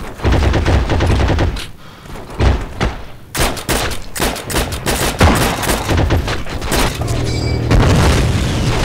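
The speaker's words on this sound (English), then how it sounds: "he got a headshot on me with a machine gun from that far away" Machine gun fire in the Heroes and Generals video game on the Airolo map: loud, dense bursts of rapid automatic shots and booming impacts, with a brief lull around the middle before the firing resumes.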